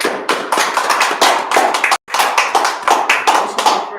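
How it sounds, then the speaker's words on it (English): An audience at a Brotherhood class claps in brisk, uneven bursts, close and loud, with a brief break partway through before the clapping resumes. "All right, clap it up."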